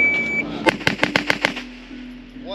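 A quick string of about seven sharp machine gun shots at a silencer showcase cracks out in a steady rhythm at moderate distance, with a steady background hum and a faint electronic beep before the burst.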